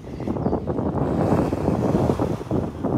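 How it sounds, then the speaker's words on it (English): Wind blows hard across the microphone on a chilly beach shore at Sunrise Beach Park, a close, continuous rumbling roar that covers any surf, with no talking. "despite the wind."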